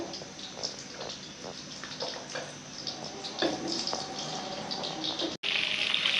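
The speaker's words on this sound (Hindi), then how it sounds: "ऑयल गरम हो चुका है, अब हम इसमें अपनी गोभी डाल लेंगे और इसे फ्राई कर लेंगे।" Cauliflower pieces dropped into hot oil for deep frying in a home kitchen, giving a steady loud hiss and bubbling sizzle throughout, briefly cut off near the end before resuming.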